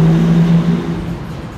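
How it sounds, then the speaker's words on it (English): A car motor revs loudly as it speeds by on a Los Angeles street, a strong low drone that fades as it passes. "they will speed at 30 miles per hour just so they can show the sound of their motor"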